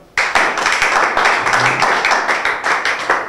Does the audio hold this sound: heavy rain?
no